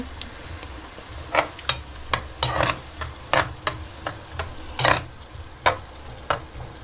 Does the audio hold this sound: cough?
no